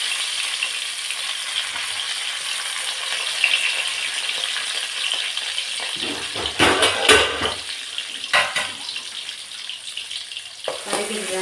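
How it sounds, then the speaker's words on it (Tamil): Onions and curry leaves crackle in hot oil after mustard seeds, a steady close sizzle with brief louder bursts of stirring or tossing partway through. "வெங்காயமும் கருவேப்பிலையும் போட்டுக்கிறேன்."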